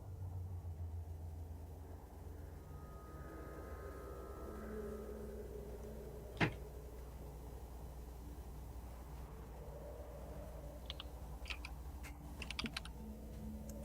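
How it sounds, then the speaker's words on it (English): Computer keyboard typing in a quiet room, soft clicks gathering into short bursts toward the end over a steady low hum, with one sharp louder tap midway. "I'm going to describe the rest of the day while the typing Alright. happens."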